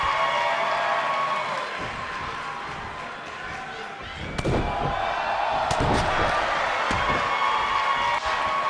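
A wrestler is hit with a big clothesline in a wrestling match, a sharp slamming impact over a steady crowd roar, followed by a few more thuds as the crowd noise swells.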